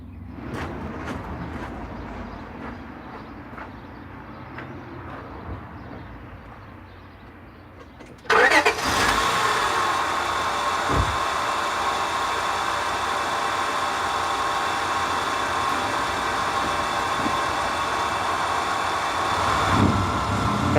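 Honda Odyssey engine being cranked, then catching abruptly and settling into a steady idle that runs on loud and even; no talking.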